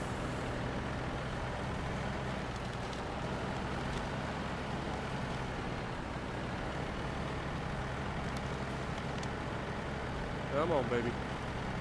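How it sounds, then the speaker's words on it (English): A heavy truck's engine drones steadily while climbing a trail in the video game SnowRunner, a low continuous rumble with a brief hiss near the end; someone speaks briefly over it. "You see this truck doesn't struggle too much going up this."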